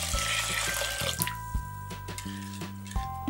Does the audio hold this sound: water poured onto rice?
yes